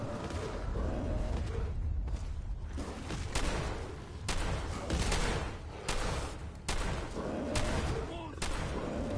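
Rifle gunfire with heavy recoil in Fallout 4: repeated booming shots at irregular intervals over dense, loud game ambience and music, with a voice talking faintly underneath.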